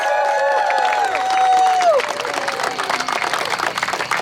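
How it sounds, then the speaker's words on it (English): Rally crowd in Fort Myers, Florida, applauding and cheering for veterans, a dense wash of clapping and shouts filling the space while a voice and a sustained tone carry over the start. "Give a round of applause for every veteran."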